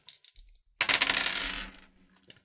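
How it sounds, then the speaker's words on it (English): Dice for a tabletop role-playing game rattle in a few quick shakes, then tumble and clatter across a hard surface in a bright burst before settling, close and alone. "Roll that dice, Billicus."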